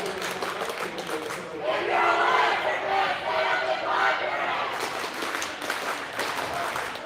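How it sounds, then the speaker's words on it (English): A high school basketball student section cheers loudly during a regional semifinal game, with Lancers fans roaring and shouting in a sustained wall of crowd noise that swells and stays loud throughout. "Lancers student section here urging Lancers fans to stand up and cheer on their team here."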